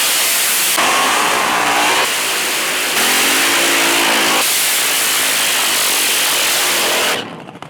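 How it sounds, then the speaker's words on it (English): A fuel altered drag racer with a Chevrolet engine does a burnout, its engine screaming loud and close in sustained bursts that shift pitch through a few revving surges before cutting off abruptly. "And Kenny Cummings, his March Meet debut, doing his burn on that three-way Chevrolet way."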